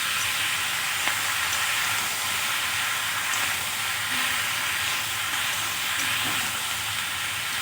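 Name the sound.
stirring tomatoes and chili powder in a frying pan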